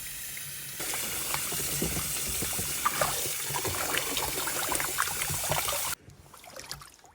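Tap water running steadily while a hat is washed by hand, a continuous close trickle and splash with small sloshing movements that cuts off abruptly near the end, leaving quieter dripping.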